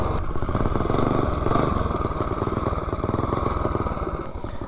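A small vehicle with a 30-series torque converter belt on a top speed run, its engine droning loud and steady at high revs with a rattling pulse throughout.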